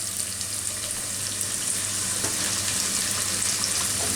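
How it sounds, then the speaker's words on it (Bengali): Chopped onions with cumin seeds fry in a pan for a Sri Lankan beef curry, a steady soft sizzle with faint stirring, close and unbroken, with no voices. "এটাকে একটু নেড়ে চেড়ে পেঁয়াজের পাশগুলা হালকা বাদামি হওয়া পর্যন্ত ভেজে নিব।"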